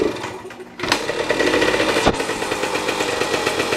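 Yamaha MX 100 motorcycle engine catching after a brief pause, then running with a loud, rapid two-stroke rattle that stays steady and close.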